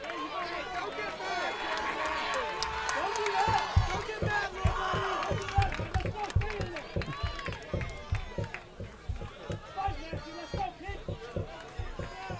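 Crowd at a high school baseball district 5A regional playoff final cheers and urges on the batter with bases loaded, a loud sustained roar with rhythmic claps and shouts, voices close and overlapping throughout.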